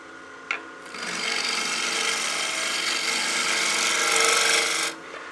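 Wood lathe with a bowl blank mounted, spinning up to about 1200 RPM: a steady, close whirring hum starts after a brief click, holds evenly for about four seconds, then cuts off.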